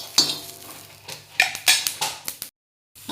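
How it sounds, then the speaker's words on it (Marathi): Green chillies roasting on a hot tava over a gas flame, a series of metallic scrapes and clinks of a spatula against the griddle over a light sizzle, close, then a brief silence near the end. "हा तवा ठेवून घेतलेला आहे गॅसवरती आणि मिरच्या भाजून घेते।"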